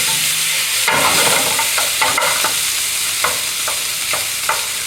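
Pork and vegetables stir-frying in gochujang sauce with a loud, continuous sizzle close up, broken by scraping strokes of a utensil against the pan.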